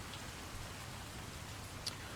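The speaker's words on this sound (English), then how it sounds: "You awake at dawn to the sound of heavy rain falling on the cobbled streets outside" Heavy rain falls steadily on cobbled streets, a constant soft hiss of drops at low level with no distinct pattern and no voices.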